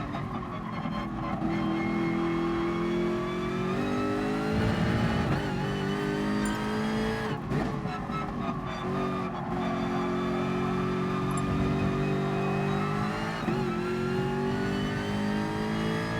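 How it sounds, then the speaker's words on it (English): A race car engine in Gran Turismo Sport roars steadily with rising and falling revs, loud and continuous throughout, like in-game driving audio. "I just love the sound of this car."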